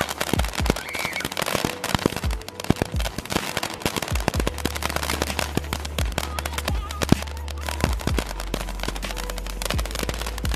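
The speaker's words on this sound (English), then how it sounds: "That thing is a real firework." Rapid, dense crackling bursts of Fourth of July firecrackers and fireworks popping continuously over several seconds, loud and close, with a low rumble underneath.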